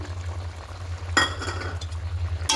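Chicken curry, cooked without oil, being stirred in a pot with fresh coriander leaves: a low steady simmering hum, with two sharp scraping strokes of a spoon against the pot, one midway and one at the end.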